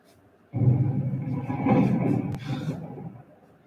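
A loud, rolling rumble of stage thunder in a theatre production of Macbeth, swelling for about three seconds and then fading, with no one speaking over it.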